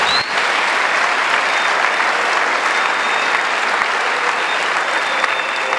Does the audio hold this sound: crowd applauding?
yes